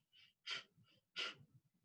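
Quick pumped breaths, a pair of sharp forceful exhalations with lighter breaths between, taken in rhythm with arm movements during a meditation breathing exercise, close and soft.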